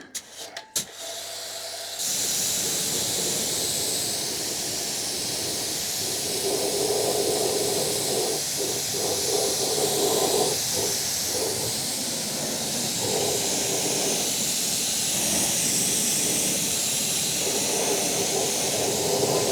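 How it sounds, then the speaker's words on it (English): A pressure washer blasts snow foam and mud off the underside of a BMW E36 project car, a loud steady hiss that starts abruptly after a brief clatter and runs continuously with slight surges. "Dad's just going to give it a blast off with the pressure washer."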